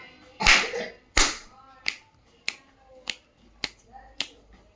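Finger snaps in a classroom clapping-and-snapping counting game for young pupils: about eight sharp, evenly spaced cracks, the first two louder and fuller like claps, the rest crisp snaps against a quiet room with no talk.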